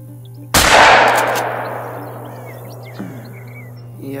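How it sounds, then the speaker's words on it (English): A single loud rifle shot cracks out in a hunting video game on Silver Ridge Peaks, fired at an albino animal, followed by a long rolling echo that fades over several seconds against a steady low hum. "Yeah, I'm gonna take that shot."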